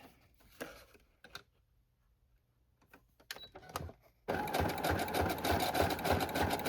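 A sewing machine stitches the edges of dust jacket covers onto journals. A few quiet taps and short handling clicks come first, then the motor starts and runs in a steady, loud, rapid stitching rattle to the end.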